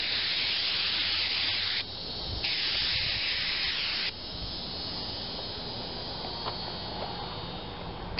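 Hissing spray paint from an aerosol can coating RV door stopper holders, two loud steady bursts of a couple of seconds each followed by quieter residual hiss.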